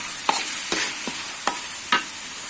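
Dried shrimp stir-fried in a pan, with five separate scraping, clattering strokes of a utensil spaced about half a second apart over a steady soft sizzle.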